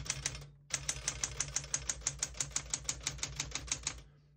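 Keys struck on a 1969 Smith-Corona Classic 12 vintage portable typewriter, a brief pause and then a steady run of about twenty crisp, close clacks in an even rhythm, with no talking.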